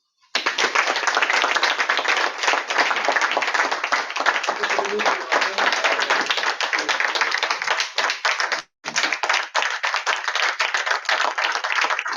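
An audience at a Toastmasters club session at the GreenHouse, Ivoire Trade Center, applauds after a speech, with dense, sustained clapping that fills the room, briefly dips once and then resumes.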